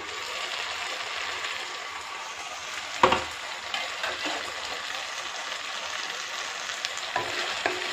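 Bora curry cooks in spiced oil in a pan, giving a steady close sizzle and fry throughout, broken by a sharp clatter around the middle and a few lighter knocks near the end.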